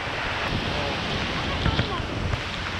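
Strong wind from a storm on Boracay island roars steadily and buffets the microphone, with surf or water rushing beneath it and faint voices barely audible.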